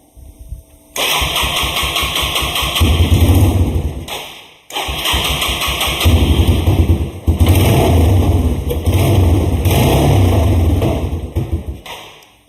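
A worn old Moto 4 ATV engine is cranked and catches, then runs with a loud, steady, thumping putter that briefly cuts out and restarts before running on rough and close up.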